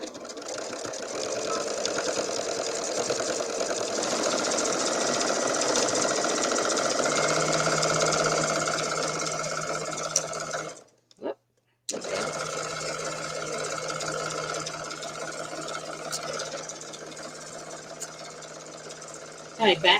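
A sewing machine runs steadily while stitching through quilt fabric, a continuous buzzing whir that stops briefly for about a second and then resumes, close by and fairly loud.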